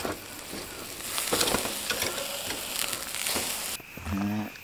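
Rump steak frying in a pan at a solo overland camp in South Africa's Maluti Mountains, a steady close sizzle and crackle with occasional stirring clatter, ending in a brief low rumble.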